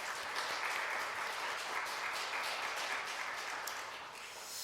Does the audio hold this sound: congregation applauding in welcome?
yes